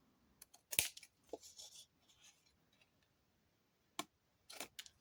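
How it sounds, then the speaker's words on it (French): Scissors cutting through paper card while trimming an overhang for a 20x20 scrapbook album, heard as a few quiet separate snips and rasps spread out over near silence. "Et je prends les ciseaux à l'envers."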